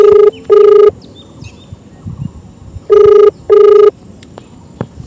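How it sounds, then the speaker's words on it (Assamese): Ringback tone of an outgoing phone call, loud and close, sounding in two pairs of long buzzing rings separated by a quiet gap with faint background noise. "এতিয়া আমি পৰমৰ ডাক ফোনটো লগাওঁ আৰু ধৰে নধৰে চাওঁ"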